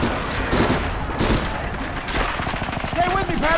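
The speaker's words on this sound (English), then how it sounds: "Firing." Gunfire in the Medal of Honor: Frontline video game, a dense continuous barrage of shots with game voices and music mixed underneath, loud and steady throughout.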